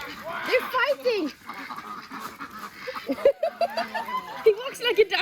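Close-up ducks in rural Vietnam quack and squabble as they fight, in uneven bursts of honking calls, mixed with people talking nearby.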